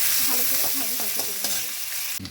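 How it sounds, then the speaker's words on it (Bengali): Chopped onion sizzles and crackles in hot white oil in a wok, with stirring scrapes ticking through a steady loud fry that cuts off sharply near the end. "প্রথমেই আমি কড়াতে একটু সাদা তেল দিয়ে দিলাম একটু গরম হয়ে যাবে কিছুটা পেঁয়াজ কুচি দিয়ে"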